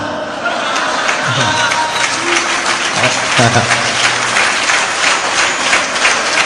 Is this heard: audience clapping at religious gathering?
yes